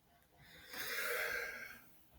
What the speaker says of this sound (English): it sounded like a yawn, but it's really just me trying to get rid of the sneeze